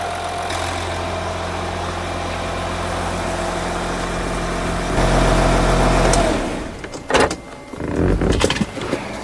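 A steady, low engine hum of an Audi Q7 idles close by, then swells briefly before cutting out, followed by a few clanks and shuffling noises.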